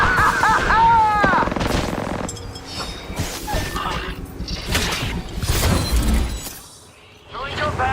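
Bursts of automatic gunfire and impacts from the video game Apex Legends, loud and close, mixed with game effects and a player talking over the shooting.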